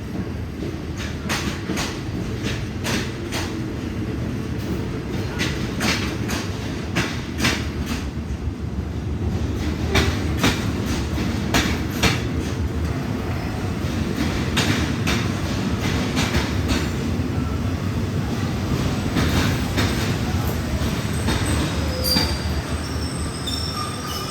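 A Hitachi 4516 diesel locomotive and its train rumble through Surat Thani station in Thailand, with a steady loud roll and repeated clicks from the wheels over the rail joints, heard alone without talk.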